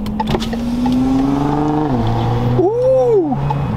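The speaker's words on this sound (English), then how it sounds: "There goes a Nissan GTR." A Nissan GT-R passes at a car meet, its engine note rising and dipping as it goes by, with a brief rev swell near the end over steady crowd and traffic ambience.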